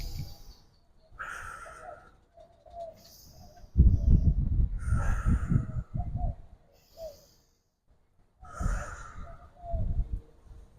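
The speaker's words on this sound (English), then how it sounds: "let's do like 3 deep breaths" A group of people taking three slow, deep breaths together: loud, close inhales and long sighing exhales in three spaced cycles, with no talk.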